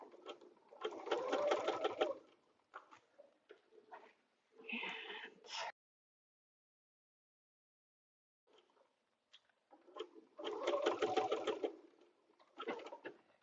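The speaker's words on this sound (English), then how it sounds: "And slowly sew over that." Sewing machine stitching slowly over a vinyl zipper bag, fast close needle chatter in two bursts separated by quieter handling sounds and a silent pause.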